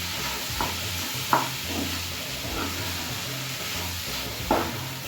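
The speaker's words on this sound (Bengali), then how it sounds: "কচুরলতিটা মশলার সাথে ভালো করে কষিয়ে নেব।" Boiled kochur loti stems being fried with spices in a pan, a soft steady sizzle with occasional scraping stirs at a quiet, close level.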